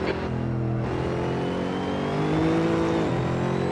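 A Mercedes SLS AMG GT3 race car losing control in the Assetto Corsa video game: a steady engine drone whose pitch dips, climbs and drops again as the revs shift, close and continuous, with no talk.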